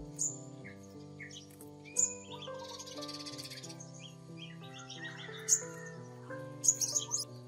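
A young scarlet minivet gives sharp, high chirps at close range, some of them clustered, over a steady backdrop of other birdsong.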